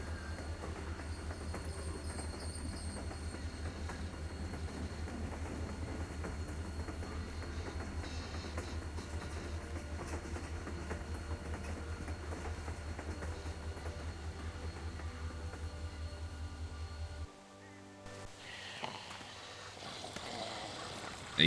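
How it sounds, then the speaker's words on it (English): A train rolls along rails in The Walking Dead video game: a steady low rumble with rhythmic rail clatter that carries on for about seventeen seconds, then cuts off abruptly, leaving quieter ambient sounds. "They're going to hear the train."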